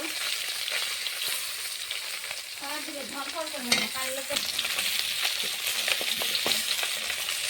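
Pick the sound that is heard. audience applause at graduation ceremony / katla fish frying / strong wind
katla fish frying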